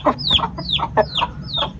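A broody black hen clucks in four evenly spaced, fairly close calls, each a falling chirp over a low, soft body sound, heard alone without talk.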